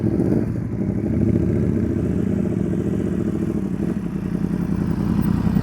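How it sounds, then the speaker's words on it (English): Motorcycle engine idling steadily, then blipped slightly to a couple of hundred revs higher, with a low mid-range throb and clatter that stays close and fairly loud throughout. "That sounds like you kind of blipped it a little bit"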